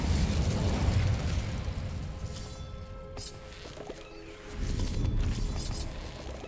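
An Incendio fire spell in Hogwarts Legacy erupts as a loud, rumbling, roaring blast of flame, swelling and then easing before surging again, with heavy low crackle.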